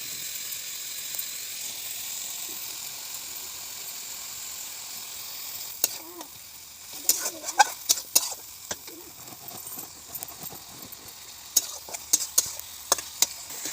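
Masala and tomato fry in oil for a fish curry. A quiet steady sizzle fills the first half, then stirring scrapes and small spatters come in bursts.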